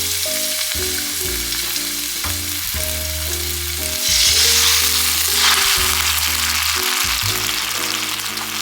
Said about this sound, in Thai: ตั้งกระทะใส่น้ำมันนะคะ แล้วก็ตามด้วยพริกนะคะ